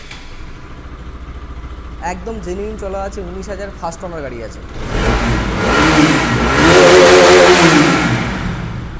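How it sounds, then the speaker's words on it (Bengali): A used BS4 RS motorcycle with 19,000 km on it starts and revs up, the engine note rising loud and close after someone talks over the opening. "আমি গাড়িটা স্টার্ট করে শোনাবো"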